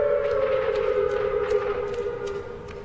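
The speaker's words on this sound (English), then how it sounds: "Well, the siren's off." A civil defense tornado warning siren wails at Eastern Illinois University during a night storm warning, a loud steady rising tone that holds and then begins to wind down.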